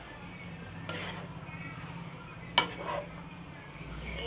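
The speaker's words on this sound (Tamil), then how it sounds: "சாதத்துக்கு லைட்டாக போட்டு நல்லா மிக்ஸ் பண்ணிடலாம் காயோடு சேர்ந்து" Rice being mixed with vegetables in a pan for paneer fried rice, with quiet scraping strokes of a spoon and one sharp metallic clink near the middle over a faint background.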